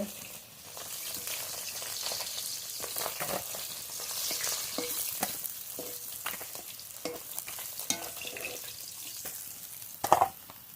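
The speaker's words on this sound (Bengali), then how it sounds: "এই তেলে বাকি মাছগুলো ভেজে নেব" Pieces of silver carp fry in oil with a continuous close sizzle and spitting crackles, with intermittent spatula scrapes and a sharper clatter near the end.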